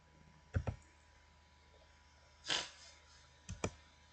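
Computer keyboard keys pressed in a quiet room: a quick double click, a softer press two seconds later, then another close pair, all near and fairly faint with nothing else going on.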